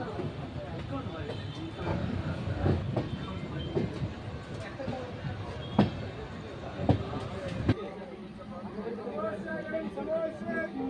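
The Charminar Express running from Hyderabad to Chennai, heard from inside an unreserved coach: a steady rumbling roll with rhythmic clickety-clack wheel knocks and a few sharper jolts, under constant passenger chatter.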